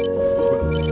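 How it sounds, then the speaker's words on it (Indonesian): A satellite phone rings in a scene from the Korean disaster film Sinkhole, a brief electronic trill that is clear and close over a low steady tone. "Lalu telepon tersebut berbunyi yang ternyata itu adalah dari tim penyelamat."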